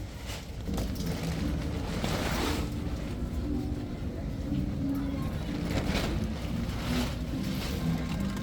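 Wind gusts buffet the microphone in a continuous roar, with faint indistinct voices and rumbling underneath, at an outdoor arts festival market.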